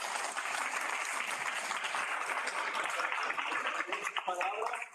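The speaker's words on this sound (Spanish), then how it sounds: "Un aplauso." A crowd claps steadily in dense, sustained applause, close and even throughout, tapering slightly at the end.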